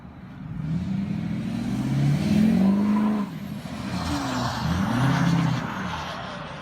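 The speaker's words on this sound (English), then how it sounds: "Definitely hear that turbo." A Ford Powerstroke diesel pickup with a 5-inch straight-pipe exhaust revs and accelerates, a loud, gravelly engine roar swelling twice with an audible turbo whistle rising over it, heard nearby without talking.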